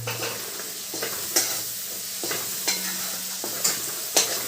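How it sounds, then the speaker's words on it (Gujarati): Sweet corn chevdo is stirred in a pan as it fries, with a steady sizzle under repeated sharp scraping and clinking strokes of a spoon against the metal, close and moderately quiet. "લીંબુનો રસ મિક્સ કરી નાખીએ બધું થોડી વાર પાકવા દઈએ"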